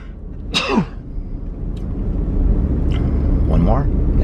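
A sharp, close sneeze bursts out, followed a few seconds later by two more quick sneezes over a low rumbling background.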